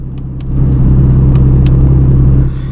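An Aston Martin DB11 V12's exhaust, valves opened in Sport Plus mode, rumbles loudly and steadily up close, a deep throaty idle with a few sharp clicks over it.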